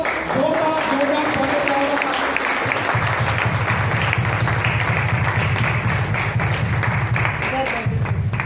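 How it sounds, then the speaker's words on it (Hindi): An indoor crowd at a monthly celebration program applauds steadily and energetically to welcome a new member, the clapping dense and sustained throughout, with some voices mixed in at the start. "आप तालियां बजाकर स्वागत करिए"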